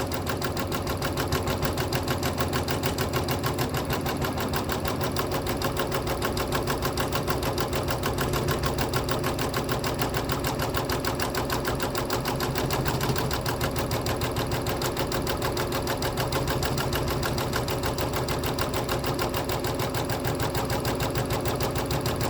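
A sewing machine with a size 14 needle stitches a quilt held in a magnetic embroidery hoop, giving an even, rapid, continuous mechanical whir and clatter that runs unbroken and alone for over twenty seconds.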